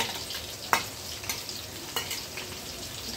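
Chopped onions and chilies stirred in hot oil in a home kitchen pan for noodles, a steady sizzle with a few sharp utensil scrapes standing out, close and alone without talk.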